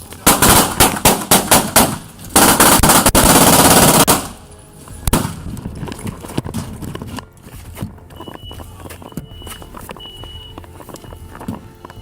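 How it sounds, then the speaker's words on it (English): Rapid gunshots fired at point-blank range in a house entryway, a loud, dense burst of cracks for several seconds, then scattered shots and thuds fading into quieter clatter. "The sound of rapid gunshots filled the entryway."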